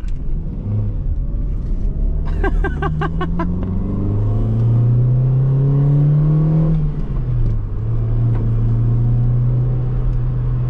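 A stock Toyota Sera's engine drones steadily from inside the cabin while driving, rising in pitch as it accelerates, then easing back to a lower cruising hum with constant road rumble underneath.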